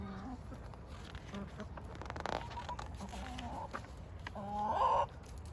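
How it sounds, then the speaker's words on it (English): Chickens cluck and squawk nearby over a rustling background, with a louder burst of agitated clucking near the end. "A chicken followed me home."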